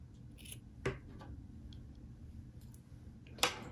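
Scissors trim a yarn tail during knitting, giving two distinct close snips about two and a half seconds apart, with soft handling rustles between them in a quiet room.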